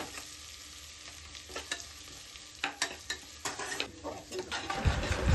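Ginger, green chili and pepper paste fry in a pan with a soft, steady sizzle, broken by repeated scraping stirs and clinks of a utensil that grow busier toward the end.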